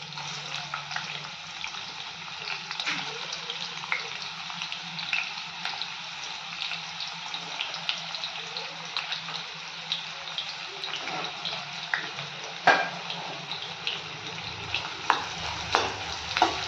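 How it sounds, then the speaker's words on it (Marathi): Sliced onions frying in oil in a pan while being stirred, giving a continuous soft sizzle with scraping stir sounds and occasional louder clacks, fairly quiet and without speech. "आता आपण गोल्डन ब्राऊन होईपर्यंत त्याला तळून घेऊयात"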